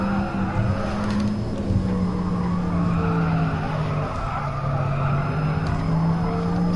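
Racing-game tire skid under hard braking in GT Sport, with a Porsche Taycan or Lancia Delta in a time trial: a sustained, loud screech of sliding tires over steady engine roar, lasting throughout.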